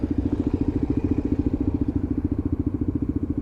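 A Lexmoto LXR motorcycle idles in neutral while waiting at traffic lights, its engine putting out a steady, close, low pulsing thump with no talking.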